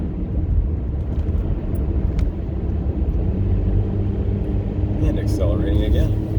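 A car accelerating uphill on old US Highway 71 between Mountainburg and Winslow: a loud, steady low engine rumble with road noise filling the cabin, rising slightly toward the end.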